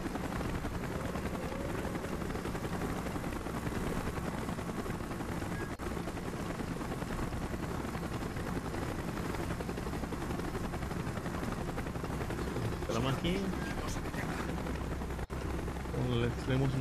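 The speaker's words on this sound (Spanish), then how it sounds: "¡Helicóptero en camino, vamos! Ya lo tumbo, no te preocupes." Helicopter rotor drone and gunfire from a Call of Duty Black Ops campaign mission, a dense, steady roar that stays loud throughout with scattered sharper bursts near the end.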